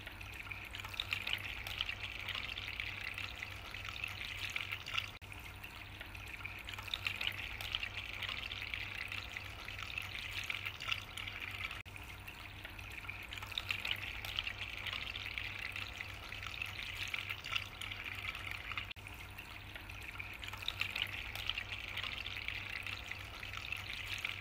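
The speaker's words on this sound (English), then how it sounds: "It's now time to test the water flow." Small homemade garden water fountain running, a soft continuous splash and trickle of flowing water with gentle surges, quiet and steady over a low hum.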